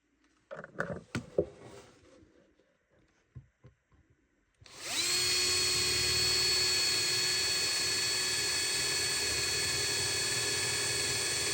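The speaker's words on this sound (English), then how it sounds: "So you've drilled one side halfway through" A few scattered knocks and handling noises, then a power drill starts up and whirs loudly and steadily, boring holes into a wooden lyre tail section, running without pause to the end.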